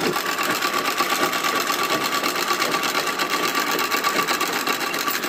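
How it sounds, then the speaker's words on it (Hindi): An electric sewing machine stitches folded blouse fabric for a drawstring, giving a steady, fast, even whir close up and without a break, with no talking. "उसके बाद हम फोल्ड करके एक सीधी सिलाई चलाएंगे।"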